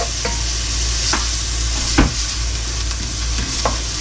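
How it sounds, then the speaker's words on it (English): Onions sauté in a pan for a marinara sauce, a steady crackling sizzle with occasional spoon scrapes and stirs, close and loud with no talking. "I'm going to saute these until they're translucent"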